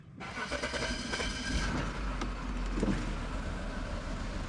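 A 2010 BMW E60 535i xDrive engine starting, a loud close cranking catch that settles into a steady rumbling idle throughout, with no talk.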